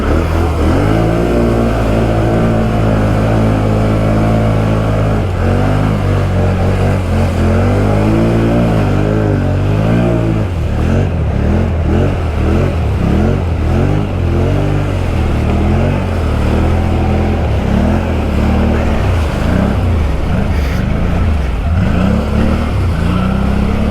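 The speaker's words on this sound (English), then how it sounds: "this thing needs clutching bad. You can feel Juan's RPM. It just doesn't have the torque" A 2019 Can-Am Outlander 650 XMR ATV churns through deep mud, its engine loud and close, droning and revving continuously, with repeated rising and falling surges of throttle.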